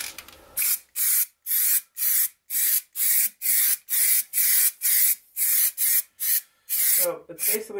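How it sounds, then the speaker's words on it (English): Undercoating sprayed onto a car's underside for rust protection, about a dozen short, loud, hissing bursts in an even rhythm with brief gaps between them, then a little handling noise at the end. "it's basically just like spray painting, like before, spraying all the areas, getting a nice even coat"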